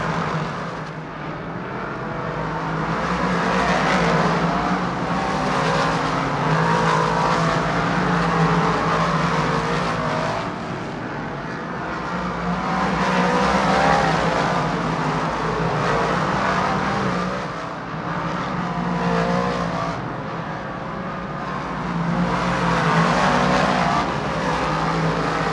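Race cars roar around Lernerville Speedway, engines rising and falling in repeated loud waves as the pack passes and circles the track, with no talk over it.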